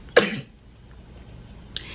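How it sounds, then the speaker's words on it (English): A single sharp cough bursts out close to the microphone, followed by a quiet pause and a second, softer cough or throat-clearing near the end, with no talking. "I feel a cough coming on."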